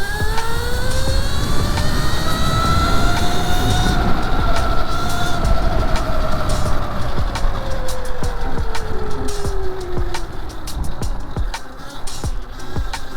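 QS120 hub motor on a Razor MX650 e-bike riding hard, a steady loud electric whine that sweeps slowly downward over rough road and wind rumble, with scattered clicks and knocks.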